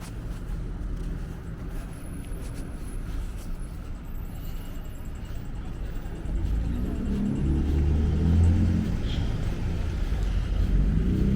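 A car's engine rumbles on a city street in Oslo in winter, a low, continuous drone that swells louder and deeper partway through as it revs.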